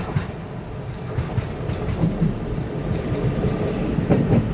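A ten-car silver-green EMU900 electric multiple unit commuter train runs on rails at a station, giving a steady close rumble with rhythmic wheel clicks throughout.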